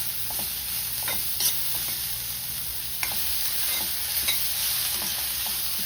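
Cabbage and potato stir-frying in a pan, a constant dense sizzle with occasional spatula scrapes and small pops, close and steady with no talking.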